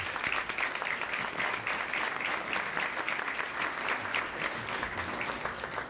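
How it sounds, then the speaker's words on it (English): A college audience at an industry day event applauds steadily, a continuous wash of many hands clapping at a fairly faint, even level throughout. "So let's give them a round of applause."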